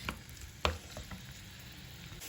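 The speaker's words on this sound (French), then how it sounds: "On laisse bien cuire que nos champignons sont dorés" Mushrooms cooking in a pan, a soft, faint sizzle broken by a few sharp clicks and one louder knock, like a utensil against the pan, with no talking.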